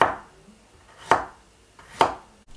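Knife chopping ingredients for thinly sliced pork with big spring onion and broccoli: three sharp, evenly spaced chops about a second apart, close and distinct, with no talking.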